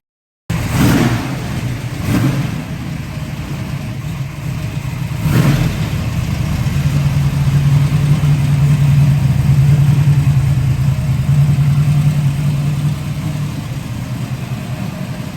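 1968 Camaro V8 starts up close and loud, blips a couple of sharp revs, then settles into a deep, steady idle with a rumbling low-pitched throb, no voices over it.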